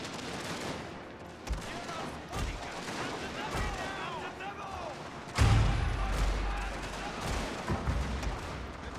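Gunfire and artillery in a strategy war game, with irregular loud bursts and booms, a heavy blast midway, and scattered shots continuing under a busy battle background.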